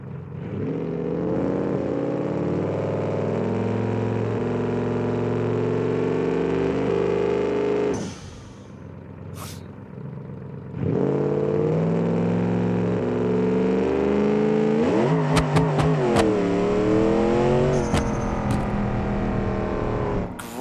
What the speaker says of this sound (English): It's an awesome engine, though. I love how it sounds.